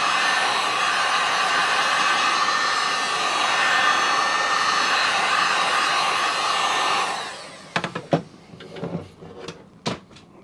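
An electric heat gun warms a golf disc (Innova TeeBird) for dyeing, blowing a steady loud roar for about seven seconds before cutting off, followed by several clattering knocks and handling sounds.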